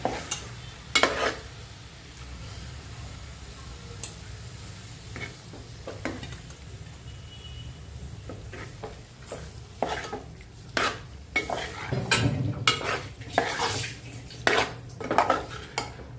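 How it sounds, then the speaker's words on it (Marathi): A spoon scrapes and clinks around a pan of sizzling chicken liver (kaleji) masala, giving irregular metallic knocks over a low steady frying hiss, close and moderately loud. "आता आपण टाकून घेऊया कलेजी टेटा मिक्स करत राहू"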